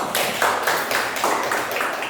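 Classroom of fourth-grade children clapping for a student group, a quick run of close, bright hand claps in uneven bursts, fairly loud with no voices over it.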